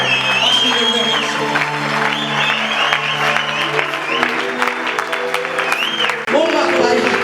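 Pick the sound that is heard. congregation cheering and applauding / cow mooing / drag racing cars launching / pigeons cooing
congregation cheering and applauding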